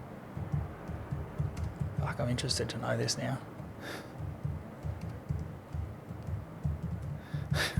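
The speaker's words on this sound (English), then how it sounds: "Sorry for my typing." A loud computer keyboard clacks through a podcast conversation, with rapid, close key presses heard in bursts under and between speech.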